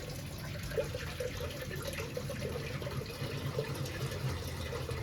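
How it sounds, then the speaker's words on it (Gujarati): Steady rushing water pours continuously, a broad even splashing with no pauses, like a tank filling from a nearby pipe. "આ રીતનાથી પાણી ભરાય હમણાં ફૂલ થઈ જાય"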